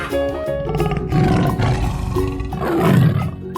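Big cat roar from a tiger in a 3D animal slide video game, loud and sustained across several swelling growling waves, with game music and effects underneath.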